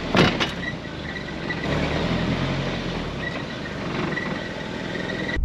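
A Nissan 300ZX with a swapped KA24DE engine idles and creeps into a driveway, a steady low engine drone with faint clicks and a mechanical whine.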